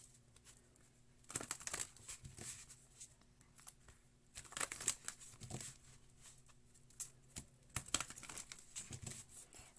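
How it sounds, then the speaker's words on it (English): Tarot cards being shuffled in several short bursts of papery riffling, quiet and close, separated by brief pauses. "3 more shuffles, they say."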